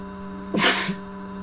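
A single sharp sneeze bursts out clearly against a quiet room with a faint steady electrical hum.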